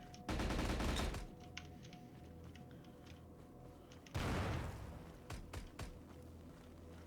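Degtyarev machine gun firing in the video game STALCRAFT: a loud sustained burst of automatic fire near the start, then a second volley of rapid shots with scattered single cracks and a fading echo.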